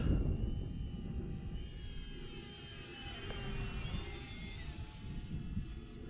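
A small FMS T-28 Trojan 800mm RC plane flies past into the wind on a 2s or 3s setup, its faint high electric whine rising and falling over steady wind noise and rumble.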